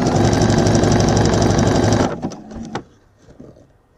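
Sewing machine stitching a zigzag over stretched elastic for gathers, a fast, busy mechanical whir for about two seconds that stops, followed by a few faint clicks and fabric handling.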